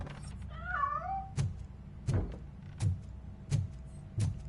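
A cat meows once in the video game Robocop Rogue City, a clear wavering call followed by a series of regular heavy thunks, like footsteps or impacts, with no talking.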